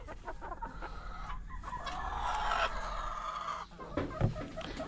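Pet chickens clucking in a backyard coop, several birds making repeated nearby clucks and calls with a rooster-like crow mixed in, continuous throughout.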